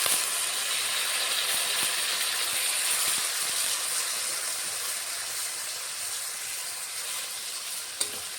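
Water hits a hot pan of paneer and pointed gourd curry with potatoes, giving a steady, loud sizzling hiss with steam that holds for several seconds and softens a little toward the end, plus one sharp clink near the close.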